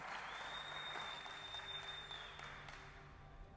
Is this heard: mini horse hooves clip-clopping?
no